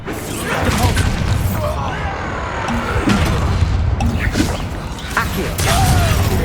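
Depulso, a force-push spell in the video game Hogwarts Legacy, lands with whooshing swipes and heavy crashing impacts, several loud hits in quick succession amid constant combat din.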